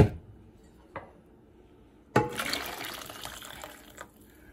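A soft clink, then a stream of hot water poured into a cup for about two seconds, close by and fairly quiet.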